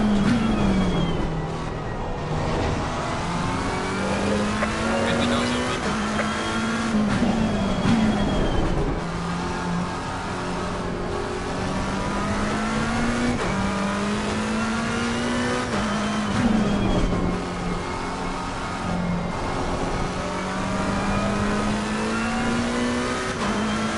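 Ferrari race car engine in a racing game, a continuous droning whine that rises and falls with gear changes through a long stretch, loud and steady with no talk over it.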